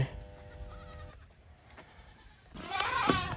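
Black Bengal goats on a farm bleat in short, wavering calls, one near the start and a louder one at the end, over faint background noise.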